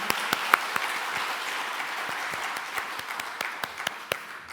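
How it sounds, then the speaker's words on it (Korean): A church congregation at an evening evangelism gathering claps together, a moderate burst of applause with distinct individual claps popping out over the steady patter, tapering slightly at the end. "박수 한번 드리겠습니다"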